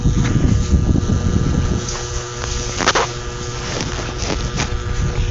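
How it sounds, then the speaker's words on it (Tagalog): A steady whirring drone of an electric fan close to the microphone, with a low rumble and a few faint knocks. "maingay yata ang electric fan"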